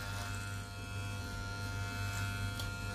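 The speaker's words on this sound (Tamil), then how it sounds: "இது ட்ரிம்மிங் மிஷினை வச்சு நான் எடுத்துட்டு இருக்கேன்." Electric hair trimmer cutting hair during a home haircut, a steady close buzzing hum with a low electric drone that holds evenly throughout, no voices.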